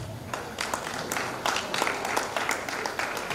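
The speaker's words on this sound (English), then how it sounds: "Can we give them a round of applause?" Scattered clapping rises from the audience at a leadership academy graduation ceremony, building into a moderate, uneven round of applause with individual claps audible at medium distance.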